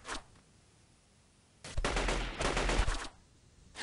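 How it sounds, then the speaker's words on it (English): Gunfire in the video game Delta Force 2 is aimed at the player, with a brief crack at the start, then a sustained burst of rapid automatic shots, loud and close, after a short quiet gap. "Who's shooting at me?"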